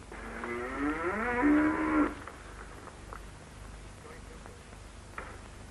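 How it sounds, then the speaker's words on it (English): A Jersey dairy cow on an early-1960s farm lets out one long, loud, rising moo lasting about two seconds, followed by quieter farm background noise. "who's managing our Jersey herd"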